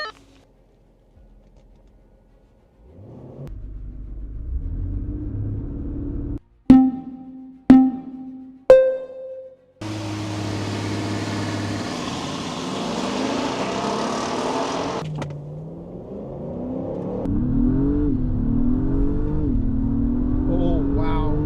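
An Acura MDX Type S and a Dodge Durango Hemi drag race on a dry runway: engines idle, a few sharp beeps sound, then both launch with a loud sustained roar that fades and rises again as the cars accelerate away.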